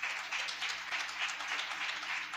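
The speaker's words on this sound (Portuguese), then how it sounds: "Dê uma salva de palmas ao Senhor" A church congregation gives a short round of applause, dense steady clapping from a crowd of worshippers at moderate loudness, with no talk over it.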